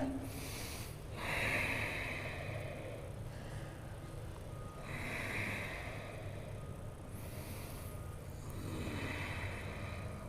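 Deep breaths during a yoga pose come as slow, steady inhales and exhales, close and soft, spaced a few seconds apart over a low background hum.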